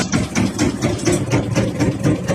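A fishing boat's engine, a bagan rambo net vessel, drives the winch shaft that turns the wheel for hauling the net, chugging loudly and close in a fast, steady pulsing rhythm with no other sounds.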